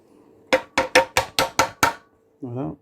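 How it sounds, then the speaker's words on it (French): A hammer taps a tool into place on the M54B30 engine of a 2000s BMW 530i E60, giving seven sharp, close metallic knocks in quick succession, followed by a brief voice. "Il va falloir lui mettre un petit coup de marteau."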